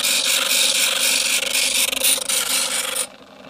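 A Sturm BG6017S 70 W bench drill bit sharpener for 3-10 mm bits grinds a drill bit. It gives a loud, continuous harsh grinding rasp for about three seconds, then cuts off abruptly into quiet.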